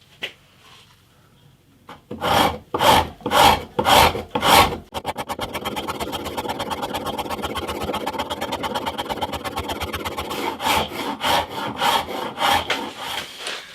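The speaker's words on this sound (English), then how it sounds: "I'm going to use this Shinto saw rasp to kick off the process" A Shinto saw rasp shapes a wooden classical guitar neck: a few slow, loud separate rasping strokes, then a long run of fast, steady rasping that breaks back into distinct strokes near the end.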